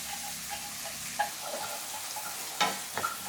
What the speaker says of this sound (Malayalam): എണ്ണ ചൂടായിട്ട് വരുമ്പോൾ നമ്മുടെ സവാള, ഇഞ്ചി, പച്ചമുളക്, കറിവേപ്പില എല്ലാം ചേർക്കാം.